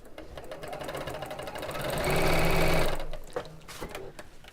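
A sewing machine stitching across the folded corner of fabric, a fast rhythmic whirring hum that builds to a louder burst midway, then stops, followed by faint handling clicks.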